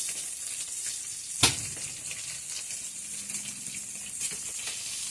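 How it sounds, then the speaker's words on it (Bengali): A whole eggplant rubbed with oil sizzles and crackles steadily as it roasts, with a single sharp pop near the start and a faint scattered crackle throughout, no voices. "বেগুনের মধ্যে তেল মেখে পোড়ালে বেগুনের টুকরাটা খুব ভালো করে ছুলানো যায়।"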